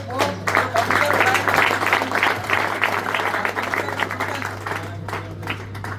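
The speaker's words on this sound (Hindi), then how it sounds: "जोरदार तालियां बजाइए।" A crowd claps loudly and steadily for about six seconds at the prize distribution ceremony of the Jintur Zilla Championship, with a low electrical hum running underneath.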